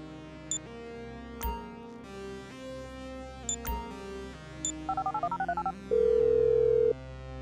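Telephone keypad tones dial out in Grand Theft Auto V, a string of quick beeps followed by a steady held tone, with scattered game effects and background music around it.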